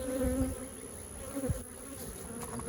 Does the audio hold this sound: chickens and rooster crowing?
no